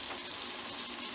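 Red peppers fry in a pan for keto kung pao chicken, a dense, even sizzle that stays steady and close throughout the short moment.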